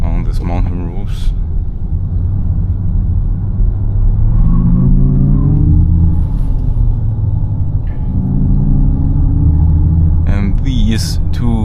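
Xiaomi YU7 MAX 690 hp electric SUV on a tight, twisting mountain road, heard from inside as a loud, constant low rumble of road and tire noise with rising and falling whine as it accelerates, and someone talking over it.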